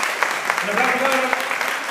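Brief clapping from an audience at a children's dance battle in Calbuco, a steady patter of hands heard under a voice for under two seconds.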